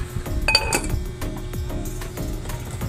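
A lid is set onto a metal cooking pot of fish soup with tomato and ginger, giving a few close clinks and rattles of metal against metal over a low kitchen background.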